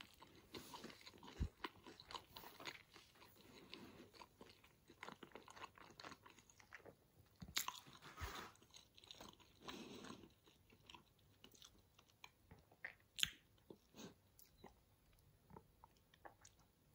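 Someone eats a Dr. Oetker Ristorante spinach pizza, with faint, close crunching and chewing bites scattered through a quiet stretch.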